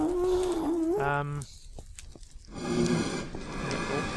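A zombie pigman in Minecraft gives a low, wavering grunting squeal, then a shorter grunt burst, heard close over quiet game ambience.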